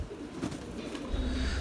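Pigeon cooing softly while held in a hand, a low continuous murmuring close by with no talking.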